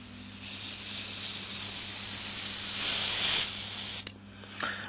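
An airbrush spraying thinned paint, a steady close hiss that swells briefly, then cuts off abruptly, followed by a short softer burst.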